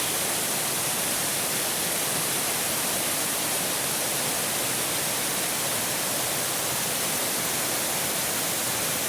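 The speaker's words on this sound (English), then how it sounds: "This is truly one great waterfall." Proxy Falls in Oregon pours down a rock face as a steady, dense roar of falling water, loud and close, with no break or other sound over it.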